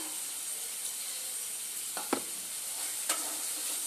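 Spice paste of ginger, whole cumin and dried red chili with chopped tomato sautéing in a pan: a faint, even sizzle with two brief scraping stirs of a spatula, no voices.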